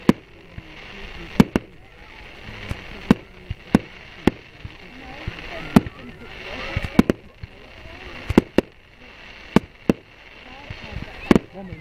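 Bonfire Night fireworks going off in a series of sharp, loud bangs at irregular intervals, some near and some farther off, with a crackling rumble and people chatting in between.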